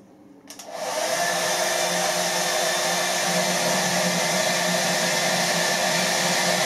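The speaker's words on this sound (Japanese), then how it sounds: "ドライヤーで真上から吹いて" A hair dryer switches on and blows steadily straight down into a tube of about 6.3 cm inner diameter holding a ball, giving a loud, constant whooshing roar after a brief quiet start.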